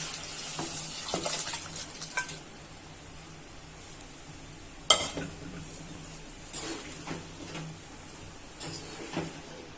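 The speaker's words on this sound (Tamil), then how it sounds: "கொதிச்சுக்கிட்டே இருக்கு மட்டன் குழம்பு" Mutton curry simmering in a pan while a utensil stirs it, with quiet bubbling and soft scrapes through the stretch and one sharp clink near the middle.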